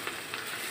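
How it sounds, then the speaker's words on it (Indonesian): Sweet sour chili sauce with tomato sauce, salt, seasoning, pepper and sugar simmering in a pan, giving a brief, soft, steady sizzle and bubbling with no talk. "ini sausnya udah mulai mendidih"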